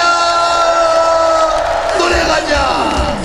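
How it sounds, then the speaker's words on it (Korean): A festival crowd at an outdoor Pumba performance in Eumseong whoops and cheers loudly, with massed voices and scattered clapping swelling toward the end. "박수 한번 주세요."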